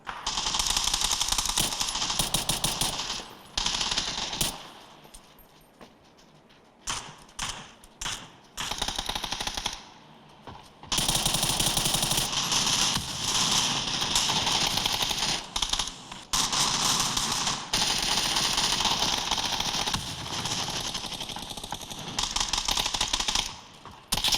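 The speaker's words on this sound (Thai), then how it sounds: "มาลองให้เพื่อนๆฟังจากเสียงที่ผมยิงและเล่นเกมกันดู" Rapid video game gunfire through Creative SXFI Air Gamer wireless headphones, long bursts of automatic shots with brief pauses between volleys, loud and dense.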